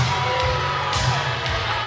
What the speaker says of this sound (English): This crowd is shocked.